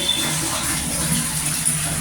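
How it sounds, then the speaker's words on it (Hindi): Water runs steadily from a tap to fill for a bath, a constant close gushing hiss with no breaks over the short stretch. "पानी चल रहा है ये, और नहाने जा रहे हैं हम"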